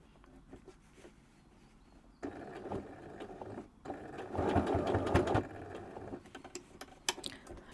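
Sewing machine top stitching a shirt alteration, running in two rapid bursts of steady needle chatter separated by a short pause, with soft clicks and handling of fabric between runs.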